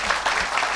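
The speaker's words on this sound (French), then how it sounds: "put your hands together for the Lord" A church congregation applauds in praise of the Lord, a brief, dense burst of hand clapping filling the room.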